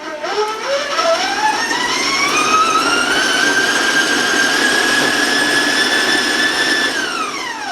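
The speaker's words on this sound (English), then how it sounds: "I'm going to raise my speed a little bit, so I want to warn you about the sound of the mixer." An electric stand mixer creams butter for a chocolate pound cake, its motor whining up steadily to a loud high-speed drone, holding there, then dropping at the end.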